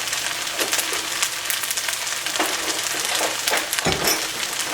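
Beef and broccoli sizzle steadily in a hot pan, a dense, constant frying hiss with occasional soft scraping and crackling bursts, close and fairly loud.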